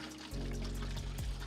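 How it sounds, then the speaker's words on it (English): Water poured into a film developing tank while developing colour film at home, a loud, steady rushing pour filling the tank throughout, close and alone. "take your water and we're gonna fill up the dev tank"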